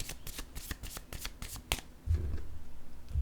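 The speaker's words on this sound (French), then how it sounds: "je vais déposer d'autres cartes" Paper playing cards are laid down one after another on a table in a rapid series of soft flicks and slaps, followed by a duller low rustle as the spread settles.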